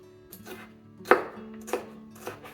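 Half a green pepper being chopped with a knife on a cutting board, a few distinct thunks spaced unevenly over a soft background, close and moderately loud with no talking.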